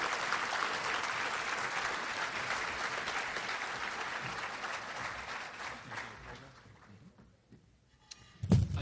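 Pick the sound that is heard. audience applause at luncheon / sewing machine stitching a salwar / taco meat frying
audience applause at luncheon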